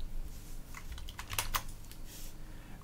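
Typing on a computer keyboard produces a short run of light, close key clicks over a low background hum, with a few sharper taps near the middle and no talking.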